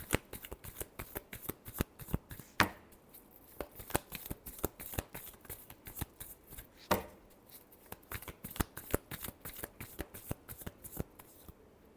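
Tarot cards being shuffled by hand, a long run of quick, crisp riffling flicks and slaps at close range, quiet and steady with no talk.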